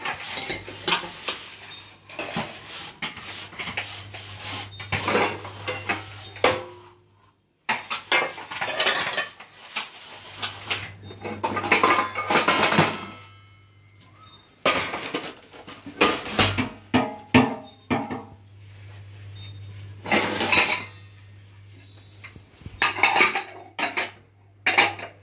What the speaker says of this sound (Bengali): কড়াইগুলো সরিয়ে নি